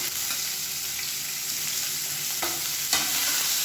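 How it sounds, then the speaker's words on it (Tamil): Onions frying in oil with cloves and cardamom for paneer masala, a loud, dense, continuous sizzle with a couple of light stirring clicks near the end. "இப்போ மீடியம் சைஸாக ஒரு 2 வெங்காயம் பொடியாக கட் பண்ணி சேர்த்துக்கலாம்"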